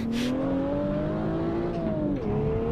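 A car engine in the Assetto Corsa racing game revs loud and close, its pitch climbing steadily and then dropping sharply as a gear changes, driven with a manual stick-shift and a Logitech G27 wheel.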